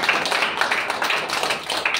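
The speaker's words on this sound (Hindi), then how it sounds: "एक बार जोरदार ताली लगा दीजिए" Children clap for Simran during a classroom activity game, a dense, steady patter of many small hands applauding together for a couple of seconds.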